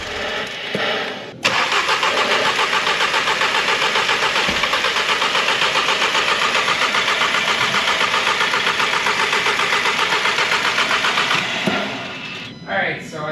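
VW Golf Mk7 fitted with an IS38 turbo, engine cranking continuously for about ten seconds to prime the turbo, a loud rapid rhythmic churn close by with no talk over it.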